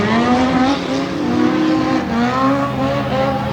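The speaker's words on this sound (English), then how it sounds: "Jim Kendall in a little Toyota 4-cylinder" A Toyota 4-cylinder pickup tears into a corner during Tough Trucks Challenge qualifying in Lima, Ohio, its engine revving loud and close, the strained note rising and falling continuously for a few seconds.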